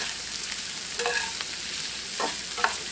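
Onion and sausage sizzle steadily in a skillet, a close, even frying hiss broken by a few brief stirring scrapes.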